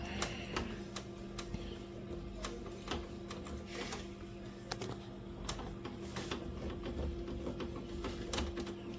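Screws being driven into a Canon G2770 printer during repair, with scattered sharp clicks and scrapes over a steady low hum, close and moderately quiet, with no speech.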